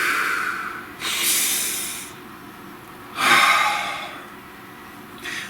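Two slow, deep breaths, each a long airy hiss of inhaling or exhaling, close and fairly loud against a quiet background, with a shorter breath starting at the very end.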